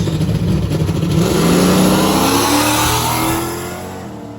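Hot rods race on the street as a Dodge Charger accelerates hard: a loud, close engine roar rising in pitch, then easing off as the cars pass and fade slightly, with no talk.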